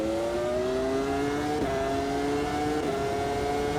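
High-pitched Formula V10 Gen 2 race car engine screaming at full revs around the Austria circuit in AMS2, with two brief dips in pitch for gear changes before it climbs again, loud and steady throughout.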